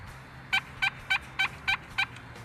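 A solid walnut turkey call imitates a gobbler's gobble, six sharp, evenly spaced yelping bursts in quick succession, loud and close over a quiet background.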